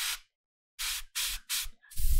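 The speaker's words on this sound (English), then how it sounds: "I'm spraying from the direction of my shadows into my highlights, or against the direction of my highlights rather." An airbrush sprays paint onto a miniature in four short hissing bursts separated by brief pauses, followed by a longer hiss with a low rumble, all close and alone.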